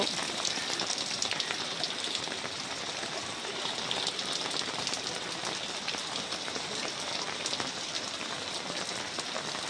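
Continuous heavy rain falls in Kumartuli, Kolkata, a steady, dense patter of drops on surfaces with no let-up, fairly close and even in level throughout.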